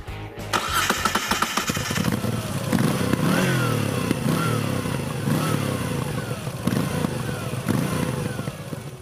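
A Moto Guzzi V9 with an air- and oil-cooled 853 cc transverse 90-degree V-twin cranks and fires up, then settles into a loud, close, lumpy idle with rhythmic blips of revving.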